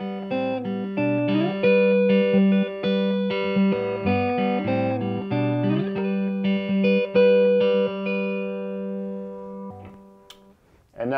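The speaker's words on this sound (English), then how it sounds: "Here's the sound of the guitar clean." A clean electric guitar through a 1968 Custom Deluxe amp with no reverb or tremolo plays a series of plucked notes and chords, bright and close, then rings out and fades near the end.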